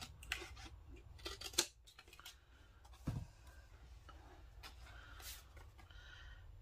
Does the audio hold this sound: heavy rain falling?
no